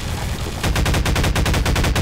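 Rapid automatic gunfire from FSM2-series guns in the video game Garry's Mod, a brief lull followed by a dense, loud stream of evenly spaced shots that continues steadily to the end.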